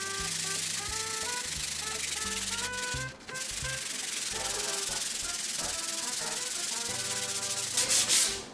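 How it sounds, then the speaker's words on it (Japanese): Steady scratchy rubbing of 120-grit sandpaper over wood, continuous strokes, close up, with faint music playing in the background. "こういう時はこの紙やすりで120番ですけど軽くかけていきます。"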